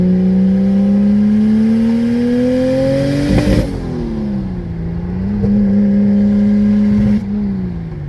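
A turbocharged Lexus IS300 engine pulls hard and loud on a test run, its steady rising drone climbing in pitch for about three seconds, then dropping back and holding with a smaller surge before easing off.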